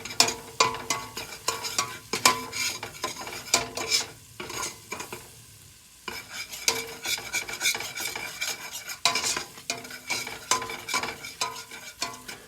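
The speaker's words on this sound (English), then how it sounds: "I'm going to incorporate the flour and the butter together." Flour and butter being stirred together in a pan for a shepherd's pie base, producing a steady scraping and rasping with a soft sizzle underneath. Stirring continues close up through the clip, pausing briefly around the middle, with no voices.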